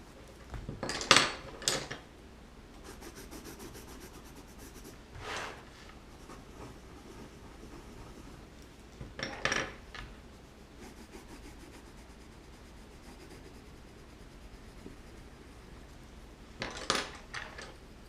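Coloured pencils scratching across paper while a mandala is coloured in, soft close rubbing strokes with occasional sharper taps and clicks spaced through the quiet.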